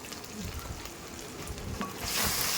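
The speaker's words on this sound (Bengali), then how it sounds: "মশলাটা ভালো করে কষিয়ে নেব" Chicken with cumin and coriander powder masala, cooked village-style for biryani, sizzles steadily in a pan, growing louder and hissier near the end as it is stirred.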